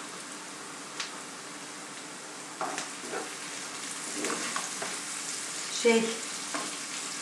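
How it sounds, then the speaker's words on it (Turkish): Spinach sautéing in a pan gives a quiet, steady sizzle broken by occasional stirring clatters. A voice speaks briefly near the end. "Bunu artık ben böyle kavuracağım"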